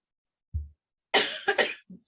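A person coughs during a casual movie-review chat, with a low throat sound first and then a harsh double cough, close to the mic with no words spoken.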